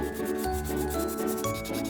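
Fine sandpaper rubbed over a carved wooden figure, a soft close-up scratchy rasp in repeated back-and-forth strokes, quiet and steady with no voices.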